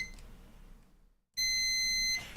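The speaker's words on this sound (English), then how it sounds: "Should be able to hear beep if there is any beeps." A continuity tester sounds a single steady high-pitched electronic beep, nearly a second long and clear, while probing a power supply fuse socket, following a brief quiet pause.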